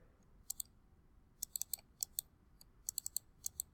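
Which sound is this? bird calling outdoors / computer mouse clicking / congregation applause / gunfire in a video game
computer mouse clicking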